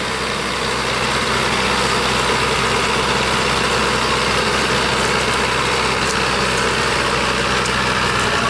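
A Fiat 640 tractor engine runs steadily, driving a 3.2-metre water tiller; loud, dense and continuous droning with no pauses and no talk.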